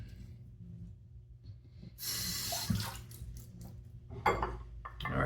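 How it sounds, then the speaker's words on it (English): Water runs from a tap and splashes as a face and razor are rinsed after a straight razor shave, quiet and close, with a few soft splashes and handling noises. "let me rinse off and we'll get the third pass going"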